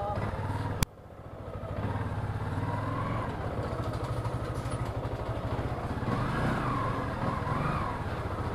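A motorcycle engine runs close by with a steady, loud rumble that rises and falls slightly, preceded by a sharp click, with faint voices underneath.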